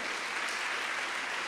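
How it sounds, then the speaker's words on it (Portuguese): Congregation in a church applauding together, a steady, dense wash of clapping that fills the space evenly from start to finish with no voices over it. "você pode aplaudir o Senhor"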